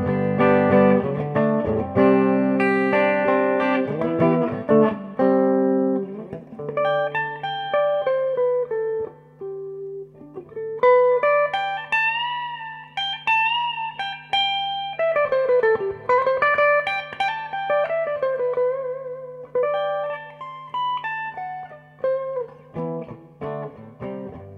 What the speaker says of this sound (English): if I pull out and get the bright switch engaged, it sounds like this.